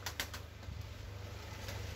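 Grey smoky tumbler pigeons in a coop give soft, low cooing calls, a faint steady murmur with a few light fluttering taps near the start.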